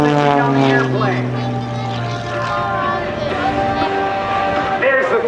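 A 300 horsepower aerobatic airplane engine drones loudly and steadily through a tumble maneuver at an air show, its harmonic propeller tone shifting in pitch as the plane rolls, with an announcer talking over it throughout.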